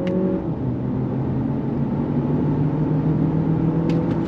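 A 2023 Lexus RX 500h F Sport hybrid SUV accelerates in second gear on a track, with a steady low engine rumble and whir heard from inside the cabin and no talk over it.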